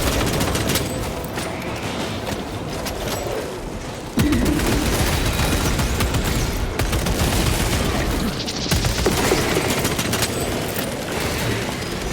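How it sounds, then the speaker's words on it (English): Combat in the video game Space Marine 2, with a frag grenade blast and dense rapid gunfire, loud and continuous with sharp bursts and a heavy boom partway through. "Releasing frag grenade."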